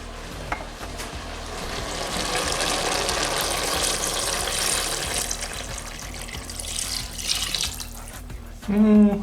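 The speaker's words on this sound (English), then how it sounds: "I think it's time to add the water" Water poured from a tap or jug into a cooking pot, a steady broadband rush that holds for several seconds, close and fairly loud, ending with a brief clatter.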